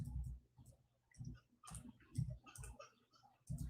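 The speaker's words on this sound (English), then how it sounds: "My keyboard is not working again." Keys on a computer keyboard click in irregular bursts, quiet and close, a sparse patter of individual taps with short pauses between them.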